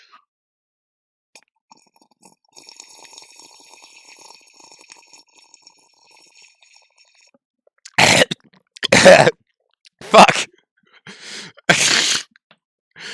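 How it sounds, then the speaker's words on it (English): Someone choking on a sip of water, sputtering into a burst of four or five loud, close coughs and gasps, each one a harsh broadband hack after a quiet stretch with faint background music. "I choked on water doing a bit."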